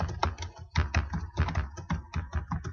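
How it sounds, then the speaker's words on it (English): Typing on a computer keyboard, a steady run of close, crisp key clicks in quick irregular rhythm, alone without talk. "you can continue typing again"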